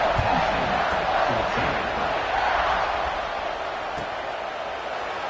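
A college football stadium crowd at an Ohio State versus Penn State game gives a continuous, loud roar that rises as the defense takes the field, heard as a dense, distant mass of voices.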